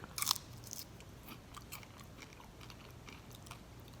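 Crunchy fried tail of a grunt pigfish being chewed up close makes a sharp crisp bite, then quieter, rhythmic crunching against faint background noise.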